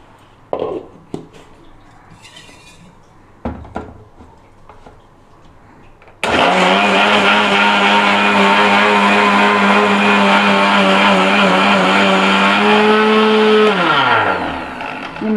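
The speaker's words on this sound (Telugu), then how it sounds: "కొద్ది కొద్దిగా వాటర్ వేసుకుంటూ మిక్సీ పట్టుకోవాలండి" A mixer grinder churns cream with water to make butter for homemade ghee; after quiet handling noises, a loud, steady motor whine starts at about six seconds and holds before winding down at the end.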